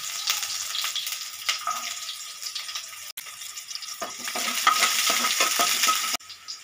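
Onions and popped mustard seeds fry in hot oil in a kadai, a steady close crackling sizzle with scattered pops and occasional stirring scrapes throughout.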